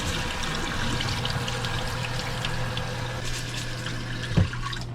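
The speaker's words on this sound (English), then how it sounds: "That's just the starch rinsing off the rice." Water runs steadily while rice is rinsed and shaken until the starch clears, a constant close pour with a brief splash near the end.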